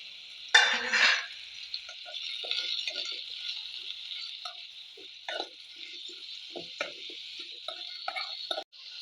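Chopped tomatoes go into a pan for a small-onion sambar and get stirred, making a soft wet splash followed by faint scattered clinks and scrapes against the pan.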